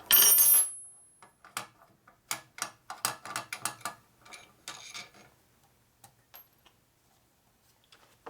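Wrench loosening the breather bolt on a 1946 Harley-Davidson Knucklehead engine rebuild: a loud initial burst, then a run of quick ratcheting clicks and metallic ticks close by, trailing off into faint taps.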